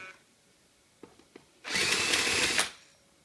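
A power tool drives out screws from a DSG6 mechatronic unit, a steady loud whir of about a second after a few faint clicks and taps, heard alone.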